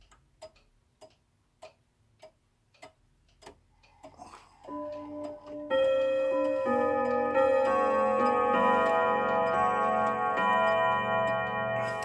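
Mechanical clock movement ticking in a clear, evenly spaced close rhythm, then giving way to loud ringing chime tones that swell and sustain; no talking.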